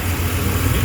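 An old Chevy engine runs just after starting, a steady, close, rough idle with a dense low rumble and no talking.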